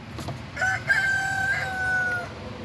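A rooster crows once, a long, loud, drawn-out call lasting nearly two seconds, close by over faint background noise.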